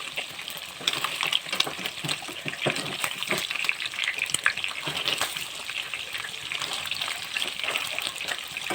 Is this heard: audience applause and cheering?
no